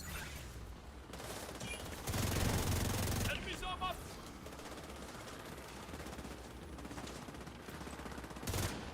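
Turret gunfire in a video game: bursts of rapid automatic fire, loudest in a dense volley partway through, over a low background. People talk in the background.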